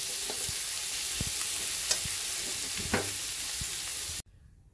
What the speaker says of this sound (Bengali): এবার শেষে একটু কুচিয়ে নেওয়া ধনেপাতা ছড়িয়ে ভালো করে মিশিয়ে নেব